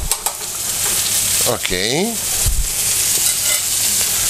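Chicken fillet and mushrooms fry in a hot pan with a steady bright sizzle throughout, a brief clatter of stirring in the middle, and a person speaking briefly over the cooking.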